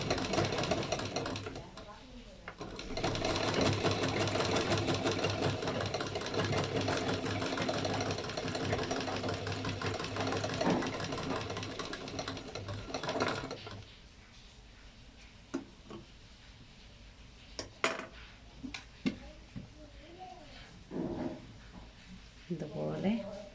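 A sewing machine stitches fabric in a long, steady run of rapid needle chatter close to the microphone, then stops, with scattered clicks and handling noises after it and a voice talking at times.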